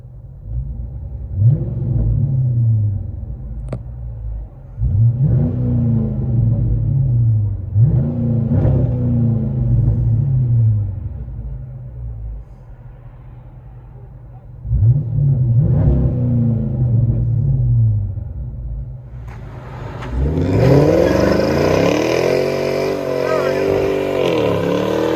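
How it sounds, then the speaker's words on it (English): A 2005 Chrysler 300C with a cammed 5.7L HEMI V8 and true dual Flowmaster Outlaws exhaust, heard from inside the cabin, rumbles through a series of sharp revs at a choppy idle, ending in a longer, louder acceleration. "Chrysler 300C HEMI. Let you guys hear on the inside."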